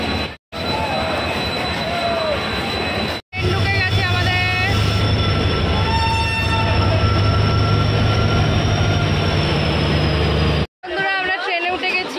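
A passenger train, the Tamralipta Express, runs on its rails with a loud, steady rumble and clatter, with squealing wheels and a sharp whistle-like tone partway through, and brief cuts between segments.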